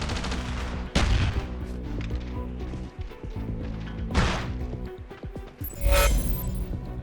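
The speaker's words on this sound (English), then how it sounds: "Shooting is what people want to do in a Call of Duty game" Bursts of gunfire from the Call of Duty Black Ops Declassified video game, loud booming shots and rapid automatic volleys in several clusters, with heavy thuds and echoing tails over a low game soundtrack.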